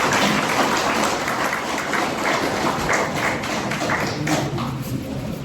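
Audience applause at a Korean gathering on North Korean human rights, given in honor of a teacher: steady, dense clapping that stays loud and even for the whole stretch, with no voices over it.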